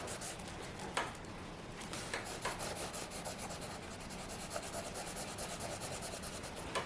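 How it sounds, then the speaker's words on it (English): Soft pastel is blended across paper with a fingertip: quiet, papery rubbing in repeated short strokes, with a few light scratchy accents, close and faint with no talking. "When you blend it with your finger, try not to press too much so that you don't lift the color"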